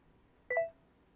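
A single short phone notification beep, a quick two-tone electronic chirp, faint against a quiet room.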